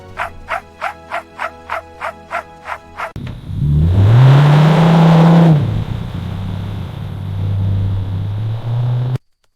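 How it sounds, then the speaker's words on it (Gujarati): A car engine starts with a rhythmic series of cranking pulses, then catches and revs up to a loud, rising roar before settling back to a steady idle and cutting off, close by with no talk. "એલા ભાઈ, બારિયા શેરીમાં કોની ફોર વ્હીલ છે?"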